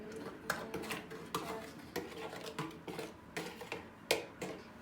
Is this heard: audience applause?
no